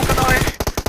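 Gunfire from the mobile battle-royale game PUBG Mobile during a competitive esports match, heard as a burst of rapid, evenly spaced shots in the second half after a denser stretch of game noise.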